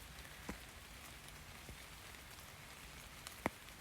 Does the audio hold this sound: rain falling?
yes